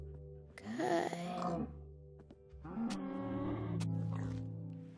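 A Minecraft cow lets out two drawn-out, groaning moos in the video game, separated by a short pause, with no talking over them.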